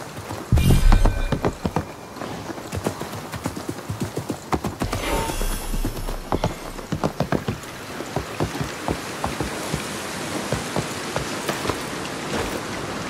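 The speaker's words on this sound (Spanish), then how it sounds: "el caballo" Horse hooves clip-clop at a steady, quick rhythm through most of the stretch in Assassin's Creed Mirage, fairly loud and close, with patter like rain and a brief low rumble mixed in.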